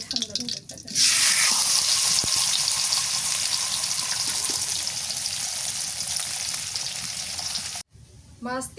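Fish frying in hot oil in a village kitchen, a steady loud sizzle running without a break for several seconds, then cutting off abruptly near the end, followed briefly by a voice.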